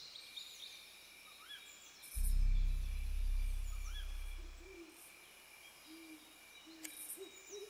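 Owl in the hidden-object game Lost Lands hooting once, a deep low hoot lasting a few seconds over quiet forest ambience with faint bird chirps.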